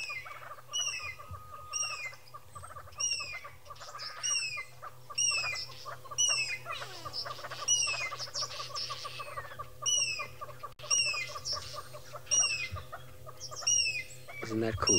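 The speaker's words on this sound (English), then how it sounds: "you've got go-away birds calling, you've got hornbills, you've got babblers, you've got everybody making lots and lots of noise" Go-away birds, hornbills and babblers alarm call at an owl in the bush, a busy chorus of repeated harsh calls and chattering at steady intervals, fairly close, with a low constant hum beneath.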